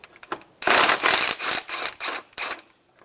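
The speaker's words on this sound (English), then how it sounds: "Remove the 10 millimeter bolt for the power steering hose" A ratcheting socket wrench loosens a 10 mm bolt on the power steering hose bracket of a 2000-2006 Toyota Tundra 4.7L V8. Several quick, close clicking bursts come in a row, then stop, with no talk.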